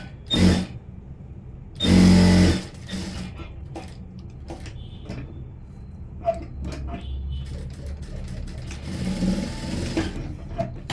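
A sewing machine stitches a princess cut blouse in two short, loud bursts, the second lasting about half a second, followed by quieter handling and rustling of fabric.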